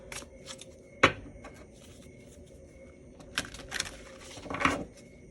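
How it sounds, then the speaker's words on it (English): Cards being shuffled in several quick riffling bursts, with pauses between, close and crisp, with no talking. "let's do one more shuffle"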